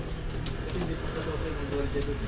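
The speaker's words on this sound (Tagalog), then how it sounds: "Marami na ibon oh." Racing pigeons coo at a club loading for a training toss, a soft, repeated cooing from many birds close by, heard under and between people talking.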